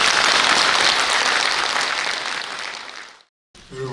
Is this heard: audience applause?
yes